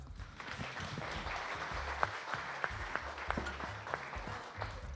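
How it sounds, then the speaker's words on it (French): An audience at a game event applauds two volunteers, a fairly faint but steady patter of many hands with a few sharper individual claps standing out. "tonnerre d'applaudissements pour ces deux-là"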